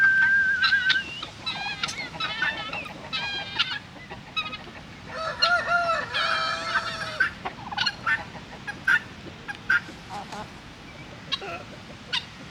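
Chickens cluck and squawk throughout on a smallholding, with a rooster crowing loudly in the middle, close by and busy, as the birds keep calling over each other.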